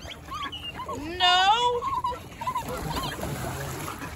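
A goose honks loudly up close, a harsh rising call with a few shorter honks after, over outdoor background noise.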